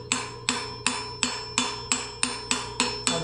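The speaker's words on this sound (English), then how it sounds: "I'll just kind of hammer it around." Hammer blows driving a wheel bearing into the front hub of a Yamaha XT250 motorcycle wheel, nine sharp metallic strikes at a steady, fairly quick rhythm, close and clear with no talking.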